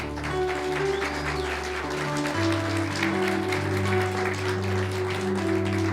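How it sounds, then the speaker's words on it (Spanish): Church congregation applauding the King during a sermon, a steady wash of many hands clapping under sustained music, continuous and moderately loud throughout. "yo le daría un aplauso al Rey."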